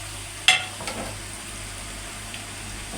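Meat fries in a pan for Palestinian maqluba, a steady, close sizzle with a faint hiss throughout and one sharp clatter near the start.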